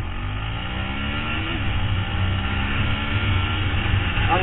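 A Yamaha WR125X 125cc four-stroke motorcycle accelerating from a standstill toward 40, engine drone rising steadily and loud under heavy wind buffeting, with no break in the noise.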